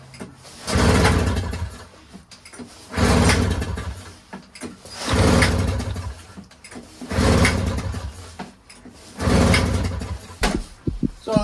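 A Bombardier Rotax snowmobile engine that won't start is pulled over five times at roughly two-second intervals, each attempt a loud close churning burst that fails to catch, with short quiet gaps between.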